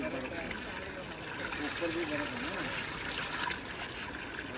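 A bottle fills from a cold natural spring, giving a continuous close trickle of flowing water under nearby talk.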